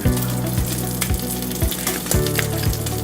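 Salmon sizzles and fries steadily in a hot pan, with a few faint stirring scrapes over the constant crackle.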